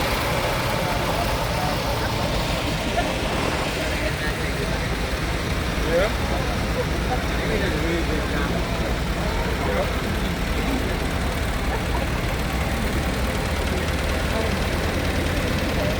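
A museum-owned tractor engine rumbles steadily throughout a parade at a show in Wolford, North Dakota, a constant low mechanical drone with faint background noise and no clear break.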